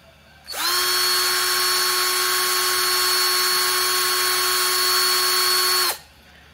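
A Fujiyama 12V cordless drill spins up in drilling mode at its lowest speed setting, a steady, loud whine with clear tonal harmonics that holds for about five seconds before stopping abruptly.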